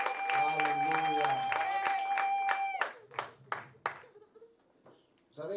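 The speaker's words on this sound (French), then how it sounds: "nous acclamons le Seigneur pour ce travail merveilleux" Church congregation clapping and cheering during a Sunday service, a dense burst of applause with voices and a sustained tone that thins into scattered claps before speech resumes.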